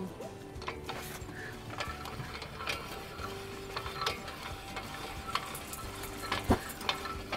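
Hand winch on an old MDC Explorer RF camper trailer being cranked, a steady low grinding with faint ratcheting clicks and mechanical creaks running throughout, fairly quiet and close, with no talking.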